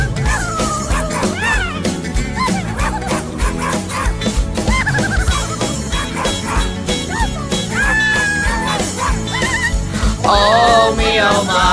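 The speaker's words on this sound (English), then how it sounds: "He barks all day and night." Dog yips, whimpers and bow-wow sounds mix into a children's dance-party song and are heard repeatedly over loud, steady music.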